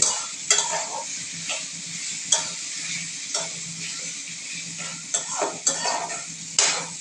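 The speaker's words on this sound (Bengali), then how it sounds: "তেজপাতা দিয়ে নাড়াচাড়া করছে" A spoon stirs bay leaves through a prawn curry in a pan, with scraping strokes at irregular intervals over a soft continuous sizzle and occasional clinks of metal.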